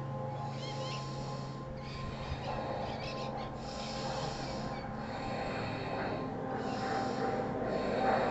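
Forceful deep breathing during a yoga breath exercise, a series of about five strong, rhythmic breaths with short pauses between them, close and fairly quiet, with no talking.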